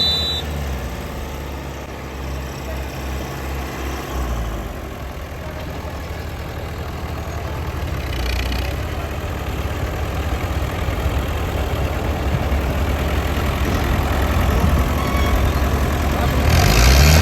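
A New Holland Fiat 640 tractor runs at a tug-of-war competition in a village in Faisalabad district, its engine a steady low rumble that grows slightly louder while voices are heard over it.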